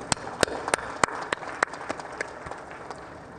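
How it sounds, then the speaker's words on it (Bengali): Applause for women peacekeepers at an Armed Forces Day gathering, a scatter of sharp individual claps that builds unevenly and then thins out, heard at a moderate distance. "আমরা তাদের জন্য একটা জোরে হাততালি দিই।"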